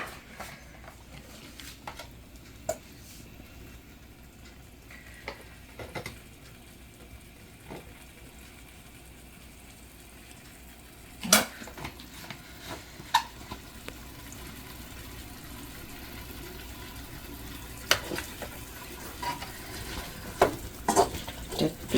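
Chopped onions fry quietly in a little oil for beef chilli, a soft steady sizzle with scattered pops and occasional spoon clicks, growing slightly busier toward the end.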